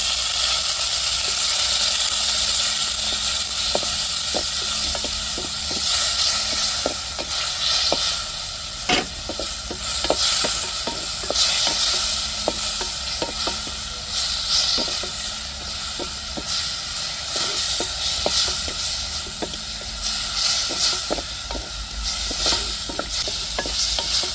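Curry leaves, tomato, garlic and chilli sizzle and hiss steadily in a hot pan for a seafood curry, with repeated close scraping and stirring strokes over the constant frying noise.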